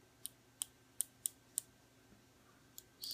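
Knurled adjustment ring on a FreeMax Starre vape tank clicks about seven times, crisp and close, at uneven intervals over a quiet background with no talk.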